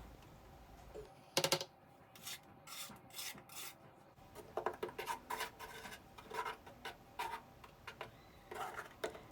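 A spatula knife spreads tile mortar for porcelain penny tile in a bathroom, giving repeated soft scraping strokes, faint and close, in an irregular rhythm.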